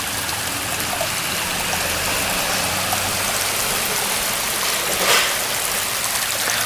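A small stream flows steadily at a hiking rest stop, its continuous watery rush and trickle filling the scene close by, with no talking over it.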